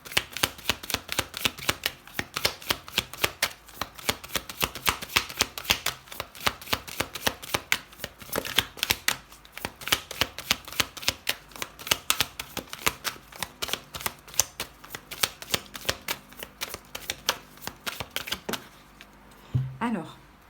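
Oracle cards being shuffled at close range, a rapid run of crisp riffling flicks and taps over about twenty seconds, ending in a brief pause with light handling.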